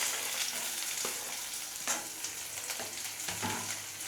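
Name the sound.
onions frying in oil in a wok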